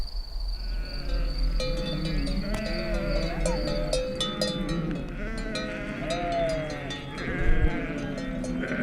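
A flock of ewes bleating on open pasture, many overlapping calls near and far over a constant chirping of insects, steady throughout with a louder bleat near the end.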